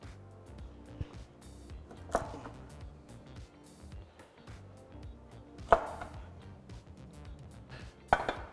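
A knife cuts a sea bream into portions for broth, several sharp, quiet chops against a board spaced out over a few seconds, with faint handling noises in between.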